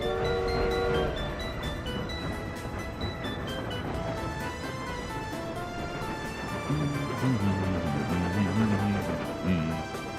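A train departs in a video game, its rolling rail rumble steady under game music with a short horn-like tone at the start and melodic notes throughout.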